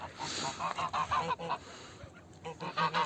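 Mother geese with their goslings honk repeatedly in an outdoor yard, loud and close, in short irregular bursts of nasal calls with brief pauses between them.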